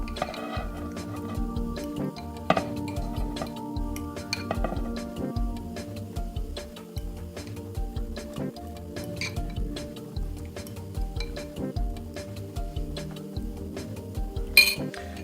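Corn being dished onto plates at a home kitchen dinner of country fried pork chops and mashed potatoes, with utensils clinking and scraping in a steady, close, repeating rhythm and no talking.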